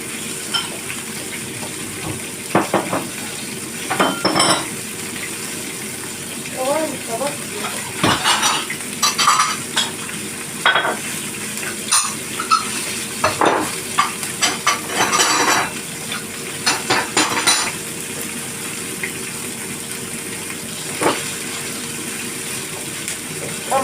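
Peppers sizzle in a pan over a wood fire while a utensil scrapes and clinks against it in irregular bursts, close by, no one speaking.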